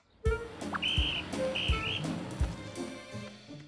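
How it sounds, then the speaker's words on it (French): Several short, bright whistle blasts sound close by, mixed in with a few thumps and light clatter. "On dirait un bruit de sifflet."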